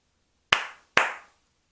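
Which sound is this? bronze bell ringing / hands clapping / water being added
hands clapping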